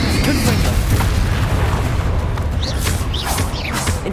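A Confringo blasting spell detonates in Hogwarts Legacy, a loud, continuous booming roar with rumbling low end and hissing debris that stays heavy throughout, with a few faint whistling streaks near the end.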